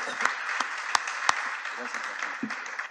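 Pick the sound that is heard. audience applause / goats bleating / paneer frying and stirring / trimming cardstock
audience applause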